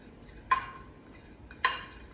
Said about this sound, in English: I'm gonna take my fork, kind of mix it up